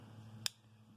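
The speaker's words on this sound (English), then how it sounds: "You unlock all the tools on the inside by clicking that button" A single sharp click from pressing the unlock button on a Leatherman Wave multitool, close and crisp over a low background hum.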